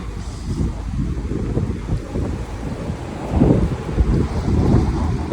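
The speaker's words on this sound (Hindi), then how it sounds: "ये बारिश की आवाज़ भी आ रही होगी आप लोगों को।" Steady rain falling outdoors on leaves, a dense broadband patter with a low rumbling undertone, continuous and fairly loud throughout with no talking.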